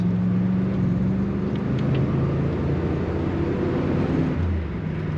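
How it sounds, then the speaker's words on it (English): A yellow 1979 Chevrolet Corvette being driven, its engine a steady, low rumbling drone with road noise, heard from inside at a moderate level with no talking. "Sounds good too. A fun to drive yellow 1979 Corvette."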